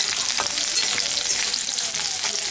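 Garlic and dried red chillies frying in a little oil in a pan, a continuous bright sizzle and crackle throughout with faint stirring scrapes, close and alone.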